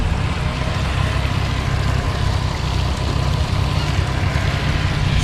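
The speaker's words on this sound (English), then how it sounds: "Honda 225 4-stroke engine." A Honda 225 four-stroke outboard on a 2004 Grady-White 205 Tournament idles at a marina, giving a steady low rumble with faint water and hull noise throughout and no speech.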